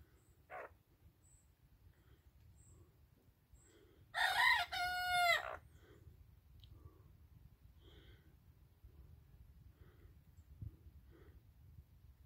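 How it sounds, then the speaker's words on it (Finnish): A single young rooster crows loudly once, its first crow, a harsh drawn-out call standing out against a quiet background with a few soft clucks around it. "Sano vaan kukkokiekku."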